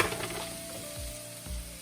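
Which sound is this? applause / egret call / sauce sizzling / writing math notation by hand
sauce sizzling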